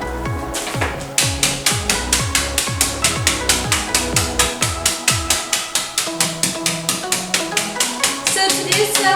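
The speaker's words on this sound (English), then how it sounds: "I just put them in a plastic bag, and I am just hammering them down and crush them a little bit, not too much." Pecans in a plastic bag being crushed with a hammer, a fast run of loud close knocks in a steady rhythm with a crinkly plastic edge, going on for several seconds without pause.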